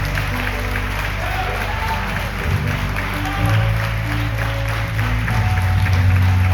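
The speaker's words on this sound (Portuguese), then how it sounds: "Aplauda o Senhor bem forte." A church congregation clapping loudly together, a sustained wash of applause that swells toward the end, with voices and low music or organ tones running beneath it.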